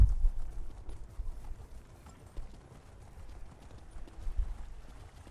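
Horse hooves clip-clop faintly in the Elder Scrolls Online video game, a soft, irregular run of thuds at a distance.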